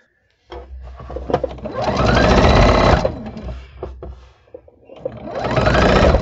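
A sewing machine stitches quilt fabric for a scrappy Christmas quilt, running in two loud, close bursts of rapid mechanical whirring separated by a short pause.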